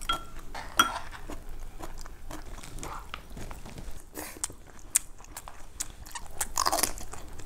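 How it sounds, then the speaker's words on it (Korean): Close-up chewing and biting of food including tofu and thin-sliced beef brisket, soft crunches and mouth sounds mixed with occasional clinks of cutlery against dishes. "지금 먹는 거야."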